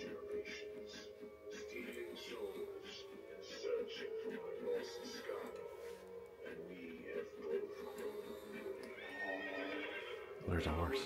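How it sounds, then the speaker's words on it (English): A horse neighs in an indoor haunted house attraction, a rising whinny set among spooky sound effects, with people talking over it and a loud thump near the end. "There's a horse."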